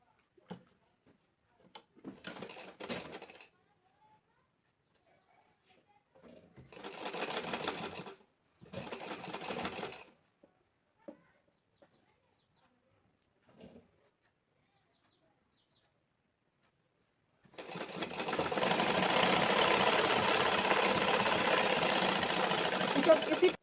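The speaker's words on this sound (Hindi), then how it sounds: "उसके बाद कच्ची सिलाई चलाएंगे हम।" A sewing machine running a basting stitch on a blouse sleeve: after scattered short sounds of handling and brief talk, a loud, close, continuous mechanical whir runs steadily through the final six seconds.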